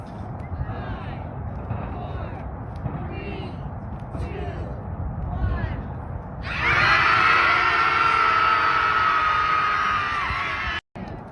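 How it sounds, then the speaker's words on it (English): A crowd gathered in San Francisco for Trump's inauguration erupts into loud, sustained screaming and shrieking after a stretch of murmuring crowd noise, holding at full volume for several seconds before a brief dropout. "liberals in San Francisco suffering from severe TDS gathered to scream when Trump was inaugurated"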